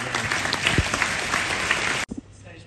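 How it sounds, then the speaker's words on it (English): Audience applause at an economic forum in Singapore marking the nation's 60 years of independence, a dense, loud wash of clapping that runs steadily for about two seconds and then stops abruptly, leaving a quiet room. "A nice round of applause for them."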